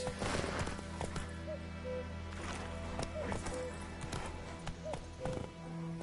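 Hooves clip-clop in a quick gallop from a horse in The Witcher 3 game, steady rhythmic thuds over a constant ambient bed with occasional faint sounds.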